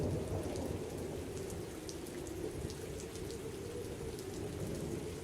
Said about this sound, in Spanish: La lluvia caía a raudales, y el sonido de las gotas golpeando el techo de mi automóvil era la única compañía que tenía.